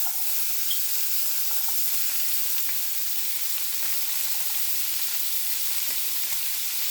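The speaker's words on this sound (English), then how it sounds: "we're going to put our vegetables in there, our celery and onions, and saute them" Celery and onions sauteing in olive oil in a skillet give a soft, even sizzle and hiss throughout, steady and fairly faint, with no talk.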